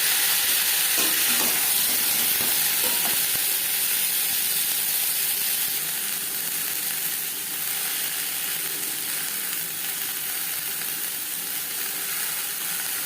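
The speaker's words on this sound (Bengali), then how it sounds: "কুমড়ো সবজি আমি হালকা করেই ভেজে নেব।" Pumpkin and cauliflower fry lightly in a pan for khichuri with a loud, continuous, close sizzle and occasional stirring scrapes, and the hiss eases slightly over the final seconds.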